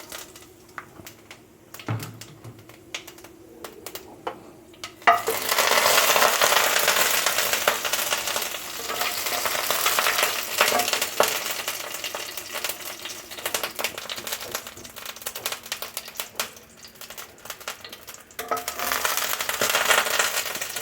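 Bay leaves and whole cumin hit hot oil in a kadai and crackle loudly, a dense, spitting sizzle that starts abruptly after a few seconds of quiet clinks, then continues close and steady with small pops.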